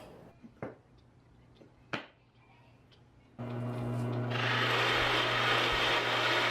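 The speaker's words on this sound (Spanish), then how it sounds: "Voy a pasar a barrenarlo." Drill boring a hole into wood, aimed to take a 1/4-inch screw: a few light knocks and handling sounds, then the motor kicks in and runs loud and steady as the bit cuts in.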